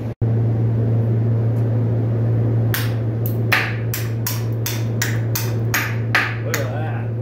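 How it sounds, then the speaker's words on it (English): Repeated hammer blows drive a bushing out of heavy equipment, about nine sharp metallic strikes in a steady rhythm, loud and close over a constant engine or machine hum. "then we're going to hammer this thing right out"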